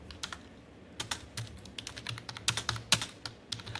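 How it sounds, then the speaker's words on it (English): Typing on a computer keyboard, heard as close, irregular clacking keystrokes in quick bursts with short pauses and no voices. "So here I can type anything."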